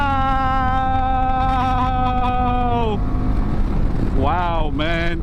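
A 2024 Indian Pursuit Dark Horse motorcycle pulls along a highway, its engine note dropping after a shift and then climbing again under wind rush, with a voice briefly over it.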